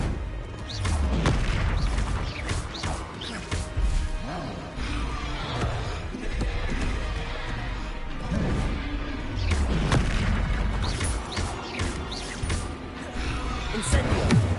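Bombarda spell explosions in a Harry Potter video game: a dense run of loud, booming blasts and crashes, one after another, with voices mixed in.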